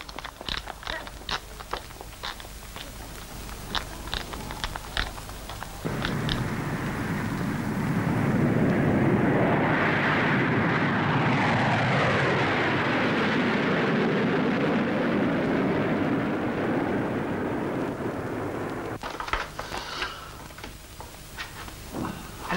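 An airplane engine before takeoff: a broad roaring whine swells up after a few clicks, holds loud and steady for about thirteen seconds, then drops away, heard from fairly close with no voices.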